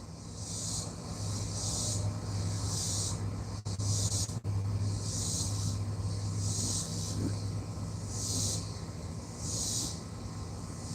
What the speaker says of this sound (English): Crickets and katydids.